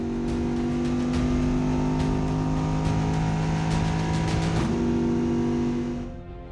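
A Rondeau race car runs at the Spa-Classic, its engine droning loud and steady with a constant pitch. Near the end the pitch shifts briefly, then the sound fades as the car moves away.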